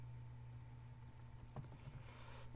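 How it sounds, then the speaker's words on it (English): Keys on a computer keyboard are tapped out to enter an FTP command at a DOS prompt, a short run of light, quiet clicks over a low hum, with a few sharper strokes near the end. "So we type in FTP."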